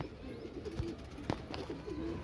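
Racing pigeons kept in a cage in the sun coo softly and repeatedly at close range, low throaty calls recurring over faint background noise.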